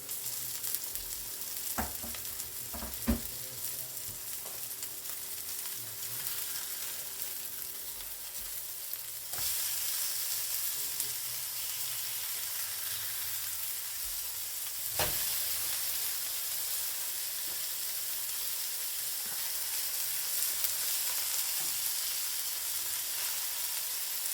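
Hamburger patties frying in a pan give off a continuous close sizzle and hiss, with a few sharp clicks and knocks early on and a brief louder surge partway through, no talking.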